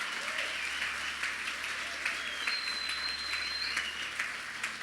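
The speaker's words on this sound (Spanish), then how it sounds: "damos un aplauso a su presencia" Church congregation claps in praise of God's presence during a service, a sustained, fairly distant round of applause with scattered sharper claps and a faint high tone drifting over it.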